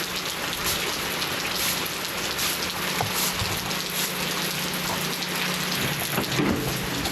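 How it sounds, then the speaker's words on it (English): Steady, unexpected rain pours down over a flagstone work area at a family compound under construction, a dense, even hiss that holds at the same level throughout with no voices. "we got an unexpected rain."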